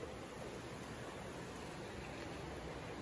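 Water feature flowing inside a casino, a steady broadband wash of running water that stays even and continuous, like a small fountain or cascade heard at close range, with no talk over it.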